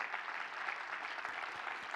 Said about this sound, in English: one more big round of applause for all of our storytellers